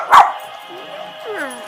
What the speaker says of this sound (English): These four little dogs.